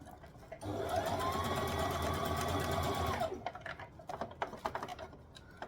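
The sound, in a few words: sewing machine stitching near elastic on a dress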